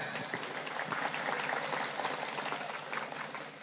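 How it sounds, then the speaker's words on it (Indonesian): Applause from a religious gathering's audience for police officers present, soft, somewhat distant and continuous clapping with no talk over it. "tepuk tangan."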